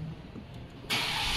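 A 2021 Changan CS75 Plus SUV starting up: nearly a second of quiet, then a sudden crank and catch into a loud, steady engine sound close by.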